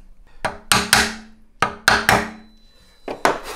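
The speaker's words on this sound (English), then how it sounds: "Now you do one more pass with the hammer." A hammer strikes a chisel cutting wood for the end graft of a handmade acoustic guitar: sharp, close knocks in uneven pairs and triplets, each ringing briefly, with no talk.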